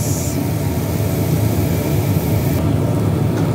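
A loud, constant whooshing hum of a kitchen exhaust fan drones close by without pause, with no voices.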